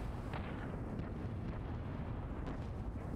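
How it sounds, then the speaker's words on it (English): Cannon fire in the video game Apocalipsis: a few soft, muffled booms rise briefly above a steady low rumble of game ambience, with no talking. "Are we firing a cannon?"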